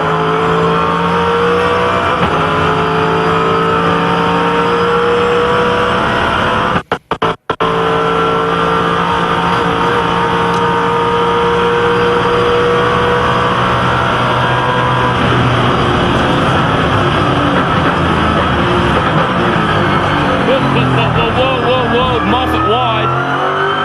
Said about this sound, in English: You can hear the drivetrain, the gearbox, everything just working.